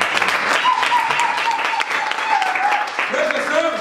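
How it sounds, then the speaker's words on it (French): A church congregation claps in applause at a service in Montréal, with dense, continuous clapping and cheering voices rising and falling over about four seconds. "Acclamons très fort."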